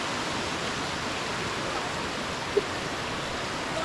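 Sondayi waterfall at Vavarle near Karjat roars as a steady, dense broadband rush of falling water, continuous and fairly loud with no voices heard above it.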